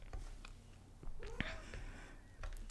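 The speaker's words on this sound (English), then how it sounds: "if you hear my cat, that's her" A house cat making brief, soft vocal noises indoors, faint and intermittent against low room tone.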